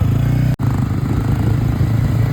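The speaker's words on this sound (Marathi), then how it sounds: "नवीन गाडी आणली ए बाई या गाडीचा आवाज लय बेकार आहे" A newly bought motorcycle with a harsh, unpleasant exhaust note idles close by, a steady loud engine drone with a brief cut-out near the start.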